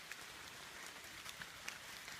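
Rain falling on shiitake mushroom logs in a yard, a soft, steady, even patter with occasional slightly louder drops, faint and diffuse throughout.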